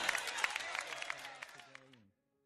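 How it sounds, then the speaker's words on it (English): A church congregation clapping hands in praise during a service, a quick burst of scattered claps under voices that fades out after about two seconds, fairly faint. "Clap your hands and praise the Lord"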